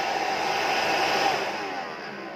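The lift fan of a 1/8-scale RC hovercraft blows steadily in a close, even rush of air, holding constant before easing slightly toward the end.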